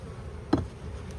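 Honeybees in an opened hive give off a low, steady buzz close by, and a short knock or clunk cuts through partway along.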